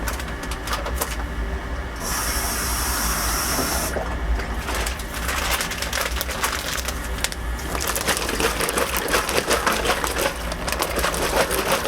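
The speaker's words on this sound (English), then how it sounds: "So I'm going to put some warm water in here. I'm going to rinse it" Warm water runs and sloshes into a plastic bag for rinsing during home winemaking, a loud, close, continuous gurgling and crinkling rush with bursts of handling noise and no talk.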